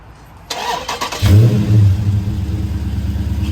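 A car lent by a mechanic as a loaner pulls away and accelerates, its mid-pitched engine rising into a loud, steady rumble close by, with no talking.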